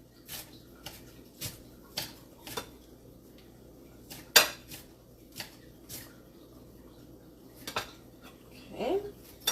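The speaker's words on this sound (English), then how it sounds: "let's just chop" Knife chopping fresh cilantro and parsley on a board, a series of irregular close taps and thuds with kitchen clatter and soft talk in the background.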